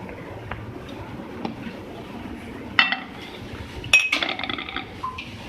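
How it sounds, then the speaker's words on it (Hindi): Ice cubes clink into a glass while mango lassi is being made, a few sharp, separate glassy knocks with a brief rattling cluster near the end over quiet kitchen background. "अब इसके अंदर हम ऐड करेंगे बर्फ़।"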